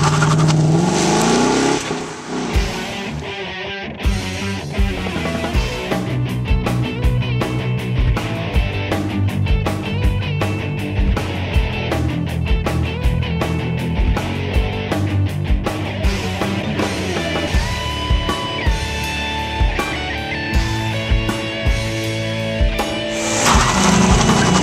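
A 2011 Ford Mustang GT with the 5.0 V8 revs and accelerates hard, its loud, steady engine roar mixed with a driving rhythmic music track for the whole stretch, with no talking.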